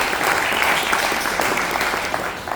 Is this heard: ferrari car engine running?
no